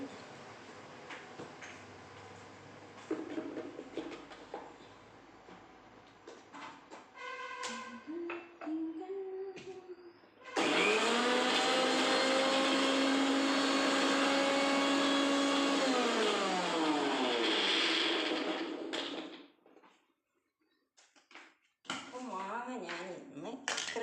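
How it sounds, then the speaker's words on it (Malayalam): Mixer grinder crushing mango and coconut for chutney, heard as a loud, steady whirring roar for about nine seconds that then stops abruptly. Clinks and handling noises come before it, and a short whir follows after a pause. "തേങ്ങ ഇട്ടത് മാങ്ങ മിക്സിൻ്റെ ജാറിലേക്ക് ഇട്ടിട്ടുണ്ട് ഞാൻ ഒന്ന് ക്രഷ് ചെയ്തിട്ട് വരുന്നു"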